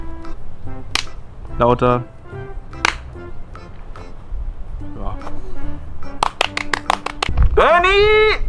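Sharp hand claps in a reverberant room, a few scattered claps and then a quick run of about seven claps in a row, mixed with close talk and a sung phrase.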